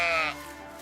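A sheep in the adventure game Crushed in Time gives one short, wavering bleat that fades into quiet background hum.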